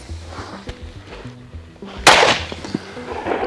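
A single loud, sharp gunshot from a 9mm pistol firing SimX Defense Core +P defensive ammunition at a range, cracking out midway over low background noise.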